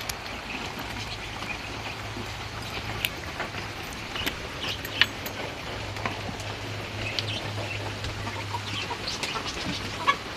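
Farmyard chickens and a rooster cluck faintly and intermittently out in steady rain, the hiss of rainfall dominating with a low continuous hum underneath and scattered small knocks.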